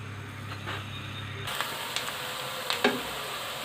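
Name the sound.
onions frying in a pan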